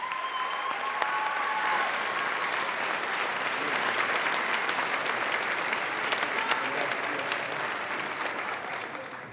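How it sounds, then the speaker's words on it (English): Audience clapping at a NASA astronaut candidate graduation ceremony, a steady, full round of applause from a large crowd that holds for several seconds before slowly easing off. "Please join me in a round of applause for them as well."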